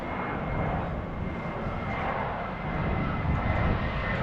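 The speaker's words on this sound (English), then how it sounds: "another plane passes by overhead." A Condor passenger plane passes overhead near Palma airport on the Mallorca coast, a loud steady jet roar that swells slightly as it goes by, with no talk.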